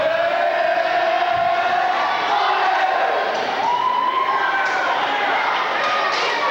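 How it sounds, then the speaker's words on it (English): Crowd in a Kansas high school gym at a volleyball match, Minneapolis versus Ellsworth, chanting a K-State cheer together; a steady, loud wash of many voices fills the whole stretch with rising chant tones. "He's out there doing a K-State cheer."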